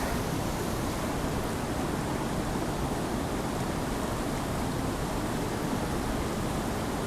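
Steady, dense roar of a waterfall rushing beside a listener in a Swedish forest, loud and close, a continuous broadband wash with no pauses or voices.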